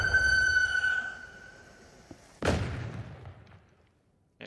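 An enemy fires at the player in Into the Radius, patch 2.5: a faint click, then one sharp, loud gunshot that echoes as it fades. No one speaks.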